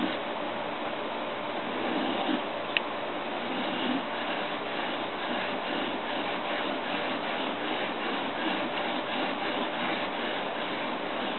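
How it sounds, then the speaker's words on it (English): A Badger broadhead is rubbed back and forth on a diamond sharpening stone, a continuous, fairly loud rasping scrape with steady rhythmic strokes and no talk. "I run my finger along the stone and just hold that steady angle."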